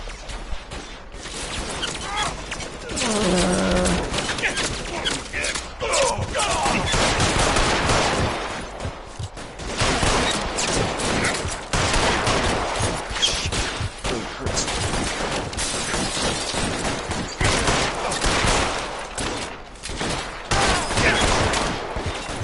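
Dense, sustained gunfire from the video game L.A. Noire, a nearly continuous volley of shots with scattered louder bursts, mixed with game noise and occasional voices throughout.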